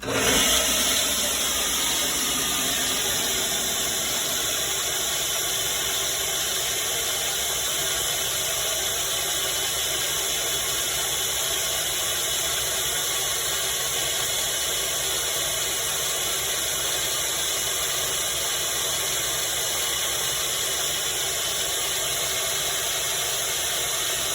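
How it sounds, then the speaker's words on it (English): A kitchen blender runs continuously at close range, giving a loud, steady, high-pitched motor whine with a grinding undertone that lasts throughout. "Get our blender on."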